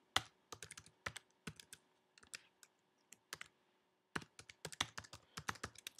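Keys on a computer keyboard clack in quick, irregular bursts as an email address is typed, crisp and close in an otherwise quiet room, with a brief pause midway.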